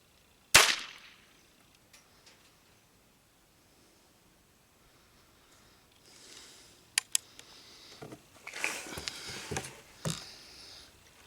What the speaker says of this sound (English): Cap exploded, but obviously the charge didn't go off.